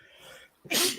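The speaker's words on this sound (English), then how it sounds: "So when you sneezed" A single sharp sneeze bursts out close by on a late-night talk show set, preceded by a soft breathy intake, with no words spoken.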